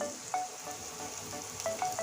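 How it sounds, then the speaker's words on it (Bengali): Onion and capsicum sizzle steadily in a hot pan, a continuous crackling fry with a few sharp pops and clinks standing out near the close. "পেঁয়াজ আর ক্যাপসিকাম লাল করে ভেজে নিয়েছি"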